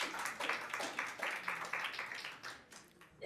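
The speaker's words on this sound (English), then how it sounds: "we can't have the interruptions of the applause" An audience applauds during public comments at a Washington County Quorum Court meeting, with rapid, moderately loud clapping in pulsing waves that keep going for a few seconds.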